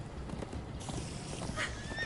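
Horses in the video game Minecraft Story Mode gallop with a steady clip-clop of hooves and whinny partway through, the hoofbeats close and continuous over background game music.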